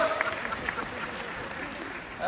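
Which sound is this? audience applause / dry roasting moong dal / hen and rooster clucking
audience applause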